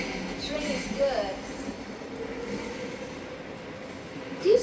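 A steady, rumbling train passes in the Warframe video game, with faint rail clatter and a brief squeal. Background game noise sits underneath throughout.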